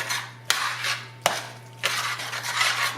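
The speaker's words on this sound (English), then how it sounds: "Just stir that around to add a little cream." A spoon scrapes and stirs through a chicken broccoli casserole as cream is mixed in, with soft wet rubbing and two sharp clinks against the dish, close and fairly quiet over a low hum.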